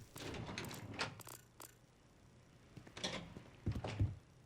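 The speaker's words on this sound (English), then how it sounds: "is it the elevator?" Elevator in the Starfield video game moving, heard as soft mechanical thunks and sliding, door-like rumbles in bursts, mid-distance and moderate in level, with no talk over it.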